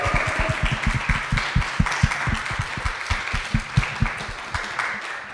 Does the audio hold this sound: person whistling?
no